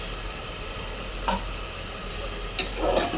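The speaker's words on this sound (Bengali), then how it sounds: "নেড়ে দিয়ে মশলাটা আমি ভালো করে কষিয়ে নেব" Spices for egg curry, chili powder, salt, coriander powder and a little water, fry with a steady close sizzle while a spoon stirs through them with a few soft scraping taps.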